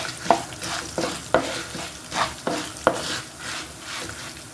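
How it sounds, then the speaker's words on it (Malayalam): Coriander seeds and urad dal dry-roasting in a pan: a light dry rustle under a spoon, broken by about five sharp scraping strokes at a steady pace, close and fairly quiet, with no voices. "ഇപ്പോൾ കണ്ടോ, നമ്മുടെ മല്ലി ഉഴുന്നൊക്കെ നന്നായിട്ട് കണ്ടോ ഒന്ന് വഴന്ന് വരാൻ തുടങ്ങി"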